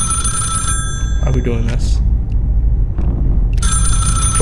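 A telephone bell rings loudly in the horror video game Ravenous, bright repeated rings at the start and again near the end, with a person talking over a steady low rumble in between.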